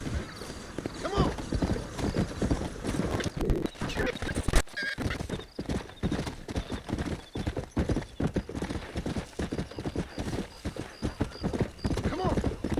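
Steady clip-clop of horse hooves with a whinny in the Western video game Red Dead Redemption, close and rhythmic, joined by game effects and occasional voices.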